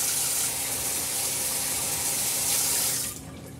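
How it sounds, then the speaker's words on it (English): Tap water runs in a strong, steady splash into a sink while hands are washed after handling poultry, then drops away abruptly near the end. "let me wash my hands"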